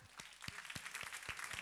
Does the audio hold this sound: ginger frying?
no